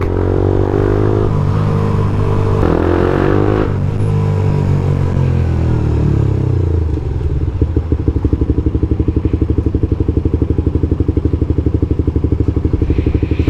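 A motorcycle engine revs loudly up close, climbing and falling in pitch, then settles into a steady, rapid chugging idle.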